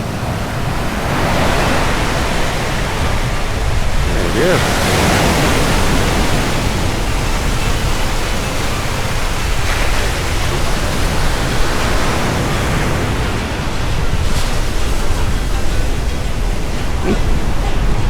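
Ocean surf at a beach near San Narciso and Pundaquit, with waves breaking and water rushing back out to sea in a loud, continuous roar; someone speaks briefly.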